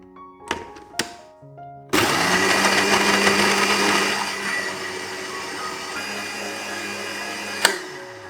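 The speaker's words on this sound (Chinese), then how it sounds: "水豆腐、腰果、2克的营养酵母倒入搅拌器里，搅打至泥状" A countertop blender purees silken tofu, cashews and nutritional yeast, roaring loud and steady for about six seconds after a few thumps of ingredients dropping in, then cutting off abruptly.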